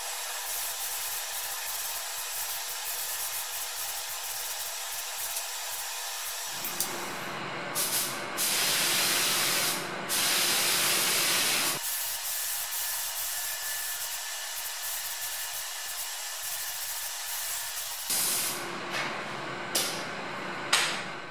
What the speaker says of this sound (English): The primer was sprayed with the Devilbis FLG5 and the base coat and lacquer with the ANI R150Q.